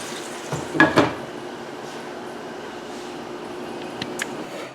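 A pot of steamed mussels gets its lid set on, a pair of sharp metallic clanks early on, followed by quiet simmering and a couple of faint taps later.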